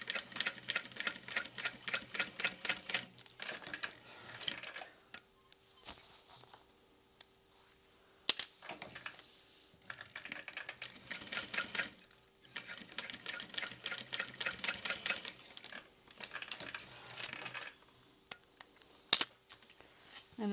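A sewing machine bastes fabric pieces into place for a bag, running in rapid stitching bursts separated by pauses and occasional clicks, close and fairly quiet with no talking.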